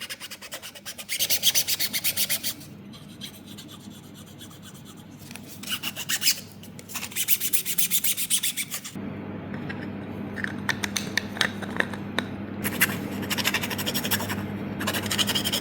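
3D printed parts are sanded by hand to remove layer lines, with bursts of harsh rasping strokes separated by quieter pauses, then longer, more continuous scraping, close and alone.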